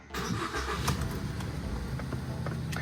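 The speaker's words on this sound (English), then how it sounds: "So it says run the engine. Now we're in park right now, so we're running the engine" A Ford Focus engine idles steadily in park after being started, a continuous low mechanical rumble with faint ticking, close and even throughout.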